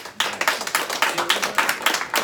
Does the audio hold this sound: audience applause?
yes